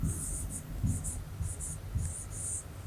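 Marker or chalk writing on a classroom board, repeated short scratchy strokes in bursts, fairly close and soft, with low background rumble and no speech.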